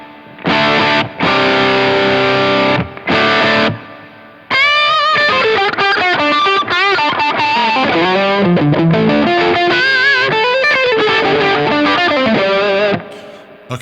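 Distorted electric guitar through a Strymon Iridium amp modeler with spacious reverb, opening with sustained strummed chords, then a busy run of melodic lead notes and riffs, loud and close.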